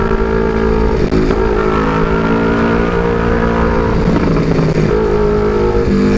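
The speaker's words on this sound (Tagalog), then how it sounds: "Masyado ng bulabog para sa akin itong to sa exhaust." A big-bike two-cylinder engine idles and blips through a loud aftermarket exhaust at a motorcycle exhaust shop, a close, thick, throbbing rumble with short rising revs at about one, four and five seconds.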